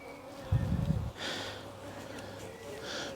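A soft, steady buzz of honeybees around a woodland apiary hive hums throughout, with a brief louder low rumble near the start and faint higher whines drifting in and out.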